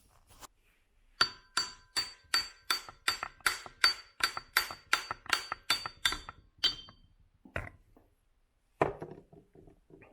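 A rapid series of sharp hammer strikes on a Corvette C2/C3 differential part, about a dozen evenly spaced ringing blows, then a pause and a few scattered knocks, close and clear.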